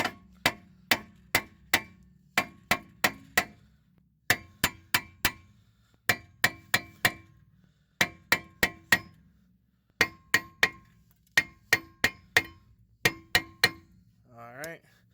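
A hammer strikes the rear brake rotor of a 2004 Chrysler 300M between the wheel studs, ringing metallic blows in quick bursts of three to five with short pauses between, loud and close.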